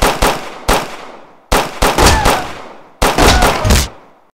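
Gunfire in a parody action film rings out in three sharp groups of rapid, loud cracks, each burst decaying quickly before the next volley begins.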